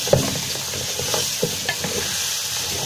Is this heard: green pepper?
yes